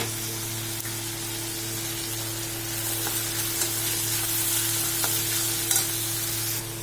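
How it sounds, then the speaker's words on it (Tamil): Onion, carrot and curry leaves sauté in a pan for onion samosa filling, a constant hissing sizzle with occasional stirring scrapes, close and fairly steady, with no talking. "வதங்கினதும் கேரட் போட்டுக்கோங்க கருவேப்பிலை போட்டுக்கோங்க"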